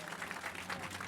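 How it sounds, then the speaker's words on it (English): A dedication ceremony audience claps, with steady dense applause from a crowd heard at moderate distance throughout a brief stretch. "Now you may clap your hands very loudly"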